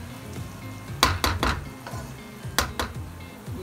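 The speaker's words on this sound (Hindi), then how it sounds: "मैंने उसी ऑयल में ही प्याज फ्राई कर रही हूँ जिसमें कोफ्ते फ्राई किए" Onions frying in the same oil used for koftas, a close sizzle in a pan with a few sharp clatters of a spoon against the metal and no talking.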